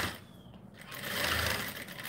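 Sewing machine running steadily while stitching a seam on a bucket hat, a fast, even mechanical whir heard close up and alone.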